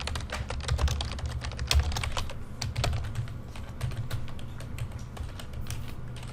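Steady typing on a computer keyboard while entering a label into a spreadsheet cell, a quick close run of light key clicks over a low background hum.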